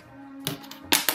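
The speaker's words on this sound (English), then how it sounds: "Using my scissors." Scissors cutting propeller shapes from a plastic bottle, two or three short, crisp snips close by over a faint background hum.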